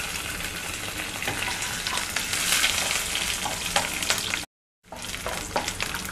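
Peanuts, curry leaves, urad dal and dried chillies crackle and sizzle steadily in hot oil for flattened rice upma, with occasional stirring clicks, close and fairly loud, broken by a short silent gap near the end.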